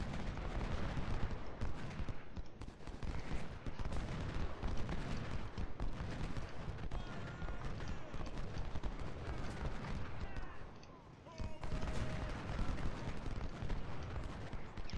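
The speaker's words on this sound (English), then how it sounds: "Keep shooting into the horde of troops." Dense, continuous musket volleys from massed troops in Ultimate General: Civil War, a rolling crackle of gunfire with deep rumbling booms, steady and loud for the whole stretch with a brief dip near the end.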